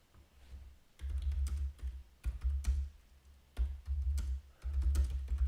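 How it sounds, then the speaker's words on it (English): Rapid typing on a computer keyboard, near and clear, in several bursts of quick clicking keystrokes separated by short pauses, with no talking. "yeah, I'm typing."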